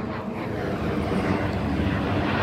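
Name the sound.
airplane flying overhead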